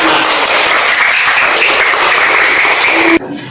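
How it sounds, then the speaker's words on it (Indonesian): Loud, dense applause from a crowd, steady and close, cutting off suddenly near the end. "Tepuk tangan untuk kita semua."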